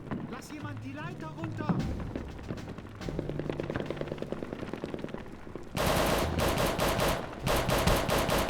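Machine-gun and rifle fire in the video game RealRTCW, rapid rattling bursts that grow louder and denser toward the end, mixed with game music and a voice talking.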